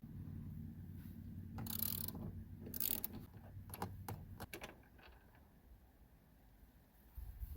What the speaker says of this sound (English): And we have one bolt there. And the other one's right there. So we'll go ahead and remove those two.